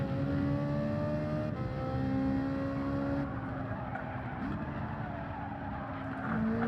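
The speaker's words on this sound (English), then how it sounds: "we may want to rev that out." A race car engine in Gran Turismo 7 revs hard and steady, its loud tonal whine shifting pitch through gear changes as the car runs on, alone with no talk.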